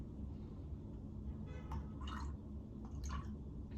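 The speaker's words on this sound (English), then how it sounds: "you'll have to give me a moment to pour it in yours" Mushroom root beer poured into a cup, heard as faint trickling and a few brief splashy bursts over a low steady room rumble, with no talking.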